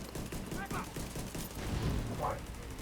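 Rapid bursts of pistol fire in a shooter video game, a fast run of sharp shots over the first half, then fainter game noise with a brief higher tone later.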